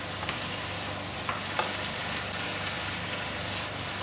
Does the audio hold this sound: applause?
no